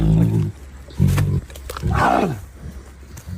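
A tiger growls during a tug of war over a chicken, giving deep rumbling roars in several bursts, close and loud, with no clear talk over them.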